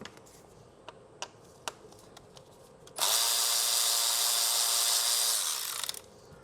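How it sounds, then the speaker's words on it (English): A power tool spins a deep 8mm socket to remove a stud on a Ford Focus RS/ST engine, giving one steady, loud whirring burst of about three seconds after a few light clicks. "Grab a deep 8mm socket and remove this stud."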